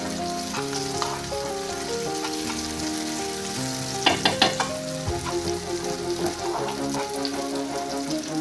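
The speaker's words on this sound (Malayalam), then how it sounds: "ഞാൻ ബീഫ് ഒന്ന് ക്രഷ് ചെയ്ത് വെച്ചിരുന്നു അത് നമുക്ക് ഇതിലേക്ക് ഇട്ട് കൊടുക്കുക ഇതൊന്ന് വഴണ്ടട്ടെ" Crushed beef fries in a pan with grapes and gets stirred, making a loud, steady sizzle close by. A run of sharp scraping clatters from the stirring cuts in about halfway through, and no one speaks.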